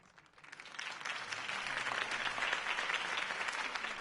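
A crowd applauds steadily in the Batman Telltale game, the dense clapping swelling in the first second and then holding loud and even to the end, with no voices over it.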